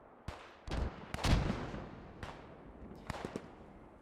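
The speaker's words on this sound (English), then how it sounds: "damn those mortars." Mortar fire in Post Scriptum, a World War II shooter, booms out as several loud, sharp blasts. A close pair of heavy thumps lands near the middle, and lighter cracks follow toward the end with no voices.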